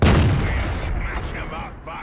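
The Hellcat tank gun in World of Tanks fires a single loud, close boom that fades into a rumbling tail, followed by faint game sounds.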